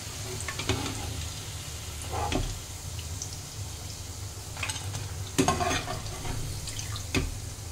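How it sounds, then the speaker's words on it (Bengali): Broccoli pakoras sizzle in hot oil in a wok with a steady bubbling hiss, broken by several sharp clinks and scrapes as they are stirred and lifted out. "ব্রোকলির পকোড়াগুলো সব ভাজা হয়ে গেছে, আমি এবার সবগুলো পকোড়া উঠিয়ে নেব।"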